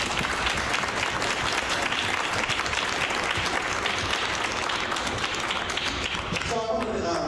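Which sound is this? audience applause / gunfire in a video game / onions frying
audience applause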